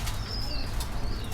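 A pigeon on a pigeon farm flaps its wings in quick dry bursts close by, over a constant low background rumble with no voices.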